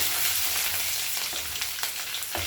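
Browned onions frying with curry leaves in a pan, a continuous close sizzle broken by a few soft stirring scrapes, with no voices.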